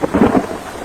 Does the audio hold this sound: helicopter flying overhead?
no